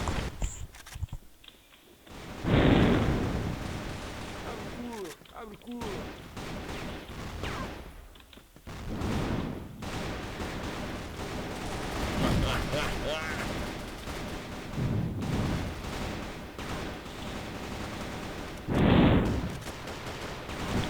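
Gunfire in the online shooter CrossFire: bursts of sharp shots, some rapid and clustered, scattered across the stretch, with a voice talking over parts of the action.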